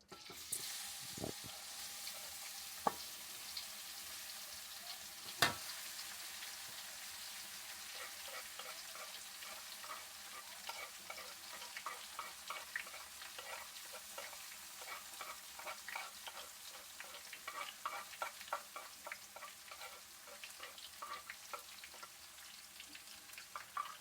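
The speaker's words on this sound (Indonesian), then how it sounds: "Kita tumis sampai harum ya." Leunca vegetables sautéing in hot oil, a steady crackling sizzle with stirring scrapes running throughout, close and moderately loud, with a few sharper clicks early on and no talking.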